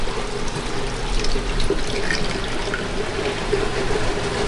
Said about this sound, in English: So you hear the noise increase? That's because it's spinning now, and it's spinning like crazy to get every ounce of water out.